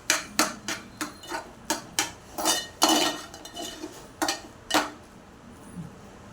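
A utensil mixes coriander into an egg scramble (anda ghotala) in a pan, making a rhythmic series of about a dozen sharp metallic clinks and taps against the pan. The sound is close and unaccompanied by speech.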